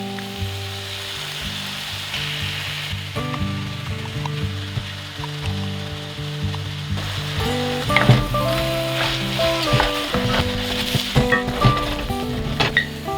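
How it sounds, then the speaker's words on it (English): Tomato paste sizzles in a hot pan for a vegan lasagna sauce, a steady close frying hiss with clinks and scraping stirs, and music playing throughout. "I'm going to add in some tomato paste."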